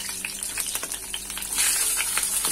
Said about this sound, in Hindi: ऑयल अच्छे से गर्म हो चुका है, अब मैं इसमें जीरा ऐड करूंगी